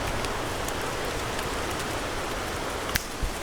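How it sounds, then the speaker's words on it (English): Steady rain falls on a Cornish woodland camp spot, a dense continuous hiss with a few louder drops pattering close by. "but it is raining"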